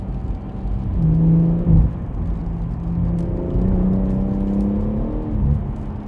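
A BMW M140i fitted with a Remus exhaust accelerates gently at low speed on a wet road, its engine note a low droning hum that rises in pitch, heard from inside the car with no talk.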